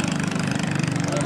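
A Kress Ktec drag racing boat engine idles at a small boat race in Amlan, Negros, after failing to pull, giving a steady buzzing rumble with a fast even pulse while voices talk over it.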